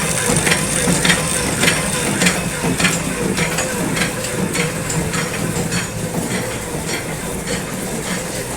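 A batasa sugar candy making machine runs loudly and steadily with a dense, continuous mechanical rattle and clatter, close by, with no talking.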